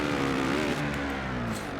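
A motocross motorcycle engine revs in the MXGP racing video game, a loud buzzing whine that rises and holds steady for under two seconds, alone without talk.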